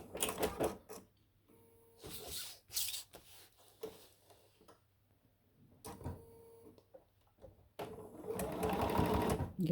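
A sewing machine stitches an outline through the layers of a vinyl bag with a Sasquatch design, running in several separate bursts of quiet, fast mechanical whirring with pauses between them.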